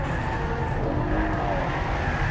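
A Ferrari FF drifting in oversteer, its engine roaring loud and close with tyres screeching continuously throughout the short stretch.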